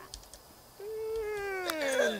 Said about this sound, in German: wie eine Katze gekotzt hat